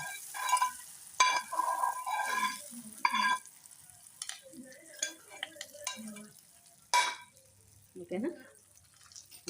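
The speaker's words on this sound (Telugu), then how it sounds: "ఇప్పుడు మనం పోపు రైస్లోకి ఫిఫ్ట్ చేసేస్తాం" Hot tempering of oil and curry leaves stirred into cooked rice for kadambam, giving bursts of crackling sizzle and scraping stir sounds in uneven spurts, close and moderately loud, with pauses between.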